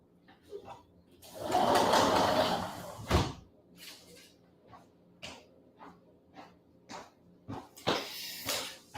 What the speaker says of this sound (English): I'm gonna close the door here.